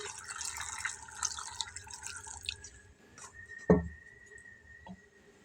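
Room-temperature water pours and splashes into a cooking pot for a couple of seconds, then trickles and drips before a single sharp clunk.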